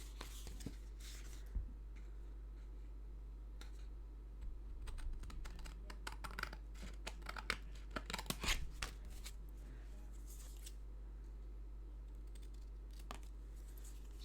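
Scissors cut through red glitter card during a greeting-card craft session, giving a few faint, scattered snips and clicks against a quiet room.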